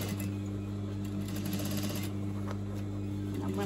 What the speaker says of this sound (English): I'm going to literally just pick up from where I left off there and stitch in the same seam